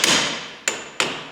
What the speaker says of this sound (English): Let me just tap on the actuator here a little bit.